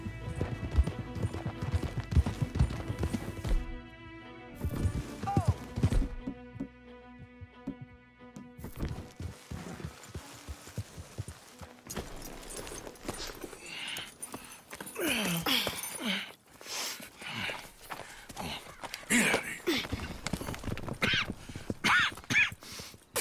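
Horses gallop and whinny in Red Dead Redemption 2, with steady rhythmic hoofbeats close by, a few neighs, and the hooves fading into scattered movement.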